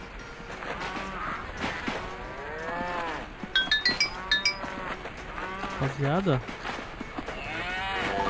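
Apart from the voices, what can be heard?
cows mooing in Survivalcraft 2 video game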